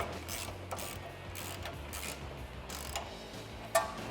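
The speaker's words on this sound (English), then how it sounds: "use a 19 wrench on the bolt head and 19 socket on the nut" A 19 mm wrench and socket working a rear control arm bolt on a 1979-2004 Mustang, giving quiet ratcheting clicks and metallic taps in an irregular rhythm, with a single sharper clank near the end.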